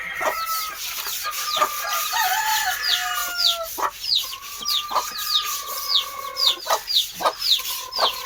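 Chickens cluck and chatter nearby while a rooster crows repeatedly, with bursts of sharp calls and short clucks overlapping through the whole stretch.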